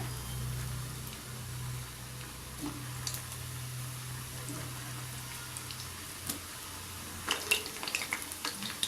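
Balls of bread gulab jamun dough fry quietly in hot oil with a soft, even bubbling hiss, joined near the end by a few light clinks and scrapes, all faint and close, with no one speaking.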